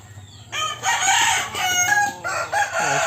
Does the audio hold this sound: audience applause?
no